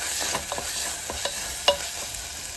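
Ginger, garlic and whole spices such as cinnamon and cloves sauté in a pan for turnip masala, with a steady close sizzle, soft stirring scrapes and a few small pops, no talk.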